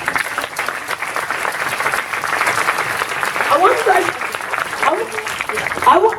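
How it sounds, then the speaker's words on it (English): Audience applause at a tech meetup, dense steady clapping throughout with a few whoops and a voice or two rising over it near the end. "Let's clap it up for these guys."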